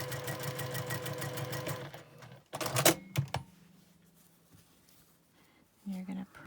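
A sewing machine stitches a triangle quilt unit in a fast rhythmic run, stops, then starts again briefly, with handling clicks and a quiet voice speaking in the pauses.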